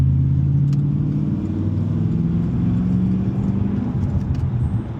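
A Cadillac CTS-V fitted with an aftermarket full exhaust drives along, its deep, loud exhaust rumble droning steadily with small shifts in pitch as it cruises.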